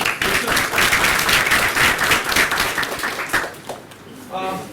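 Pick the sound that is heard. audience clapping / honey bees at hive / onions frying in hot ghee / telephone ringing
audience clapping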